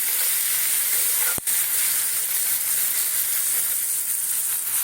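Ingredients sizzle steadily in a pan of hot oil, a dense continuous frying hiss close by with one brief sharp click partway through; no one speaks.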